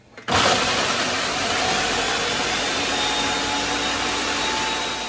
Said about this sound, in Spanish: ahorita aquí voy a moler bien molidas las galletas